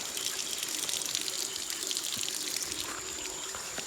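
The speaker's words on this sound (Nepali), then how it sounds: "यसरी खाइन्छ है मूलमा चाहिँ पानी" Water flows steadily from a natural spring source, producing a continuous, moderately faint trickling rush with no voices over it.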